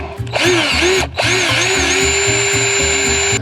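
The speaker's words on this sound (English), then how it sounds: "All right, pilot hole's drilled." A power drill whines loudly and steadily, pausing briefly before spinning up again and running continuously while boring a pilot hole.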